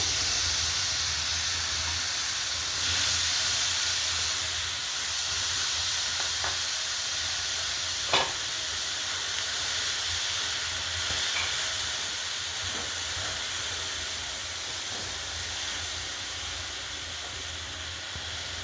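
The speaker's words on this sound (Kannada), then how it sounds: "ಈಗ ಅವರೆಕಾಯಿ ಹಾಕ್ಕೊಂಡು ಹುರ್ಕೋಬೇಕು" Hyacinth beans dry-roasting in a pan with no oil: a steady hiss and faint sizzle, with a few light scrapes from stirring, alone and fairly quiet.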